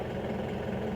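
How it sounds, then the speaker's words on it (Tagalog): A cold Isuzu Crosswind engine idling at low RPM, a steady low, even rumble heard up close with no other sounds over it. "dahil malamig pa yung engine, bumalik siya dun sa"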